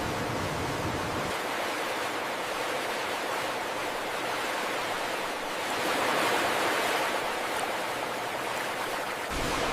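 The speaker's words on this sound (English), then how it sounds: "Hundreds of feet of precisely engineered channels ensure every banana receives an immaculate initial wash." Water rushes steadily through long engineered channels washing bananas in a factory, a dense, even roar of flowing water that swells briefly near the end.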